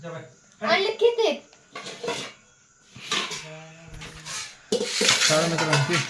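Dishes and cutlery clink and clatter in bursts at home, metal pots and utensils knocking together close by, interleaved with people talking.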